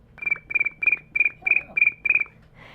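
A human voice imitates cricket chirps, producing about seven rhythmic, evenly spaced chirping pulses, close and clear.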